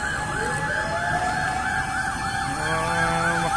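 Fire truck sirens wail loudly and continuously as firefighters arrive at a fire in Las Piñas City, with rising and falling tones layered over street noise.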